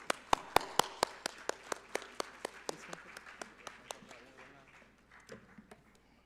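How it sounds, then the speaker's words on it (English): An audience at a summit gives a short round of applause, starting as distinct sharp claps from a few people close by, then thinning out and fading into scattered claps. "Give this team applause."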